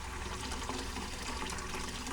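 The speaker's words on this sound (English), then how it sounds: "the water is just filling the tank" Water pours steadily into a van's water tank, giving an even, continuous rushing hiss with no talk over it.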